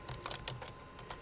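Quiet, sparse keystrokes on a computer keyboard as a command is typed, a handful of soft clicks in irregular rhythm with no talking.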